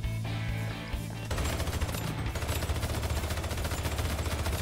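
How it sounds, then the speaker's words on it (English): Rapid automatic gunfire in the toy-themed shooter HYPERCHARGE: Unboxed, loud, close bursts of machine-gun fire that rattle on continuously after a brief lull, with game music underneath. "Why is there gunfire coming from behind me?"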